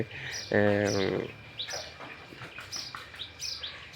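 Birds chirp and call in quick bursts, with a brief, louder tonal call near the start, then scattered high tweets continuing.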